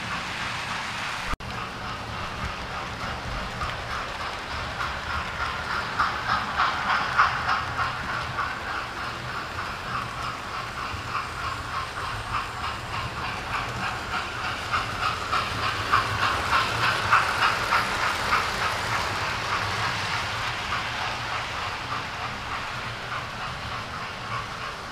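A model train locomotive runs steadily with a continuous hiss and rhythmic clatter, swelling louder twice as it passes closer, then receding.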